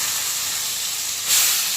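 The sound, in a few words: salted and turmeric-coated brinjal frying in a pan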